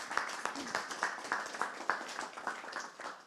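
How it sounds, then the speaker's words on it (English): An audience applauds a speaker named Jess: a steady patter of many hands clapping at moderate distance, fairly even and sustained throughout. "Just give Jess a round of applause for me."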